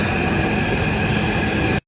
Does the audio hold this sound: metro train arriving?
yes